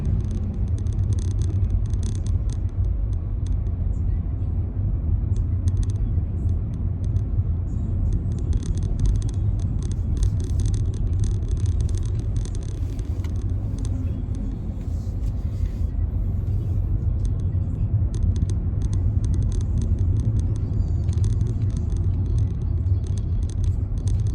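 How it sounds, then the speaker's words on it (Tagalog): Steady traffic passing on a hot summer road in Japan, with a continuous loud low rumble of car engines and tyres that never drops out across the whole stretch. "Salusalubong yung sasakyan."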